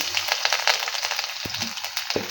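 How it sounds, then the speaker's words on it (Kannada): Garlic and mustard seeds frying in hot oil for a carrot stir-fry, a steady close crackling sizzle with sharp pops and a couple of louder spits, no talk. "ಬೆಳ್ಳುಳ್ಳಿ ಸ್ವಲ್ಪ ಫ್ರೈ ಮಾಡಬೇಕು"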